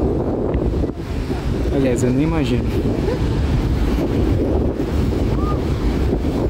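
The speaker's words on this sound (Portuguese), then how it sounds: "as ondas batem tão forte aqui embaixo nos pilares que chega a tremer aqui a estrutura" Rough sea waves crash against the pillars beneath a pier at Rio das Ostras, a loud continuous surging wash with heavy wind buffeting the microphone while someone talks briefly.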